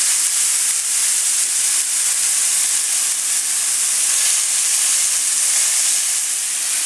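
Beef slider patties mixed with onions sizzle on a hot griddle as they are flipped, a steady, loud hiss with no pauses and no voices.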